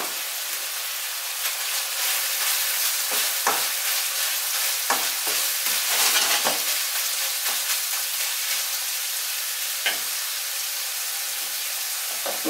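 Paprika stirred into a hot pan of frying minced beef, a steady loud sizzle broken by repeated scraping knocks of the spoon, close and continuous, with no talking.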